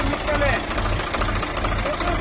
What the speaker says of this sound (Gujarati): રાજેશ મુચન કલા ટ્રેક્ટર ચલાવે છે પાંજરાપુરના ગાડીઓ છે